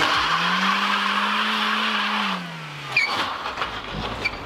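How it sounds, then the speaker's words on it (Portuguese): Tires of a Peugeot 306 Turbo squeal loudly in a long, steady screech for about three seconds at a tuning shop, then cut off into rougher engine and road noise. "tem medo de cantar pneu aqui"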